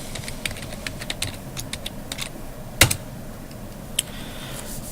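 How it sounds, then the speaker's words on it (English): Typing a short Python command on a computer keyboard in Ubuntu: a string of light, close key clicks at an uneven pace, then one louder sharp keystroke like a hard Enter press and a final click, with no speech. "So for this, I'm gonna type print Ubuntu"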